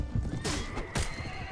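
Horses in the Mount & Blade Warband video game whinny over a quiet bed of clip-clopping hooves, two sharp neigh bursts standing out, fairly faint overall.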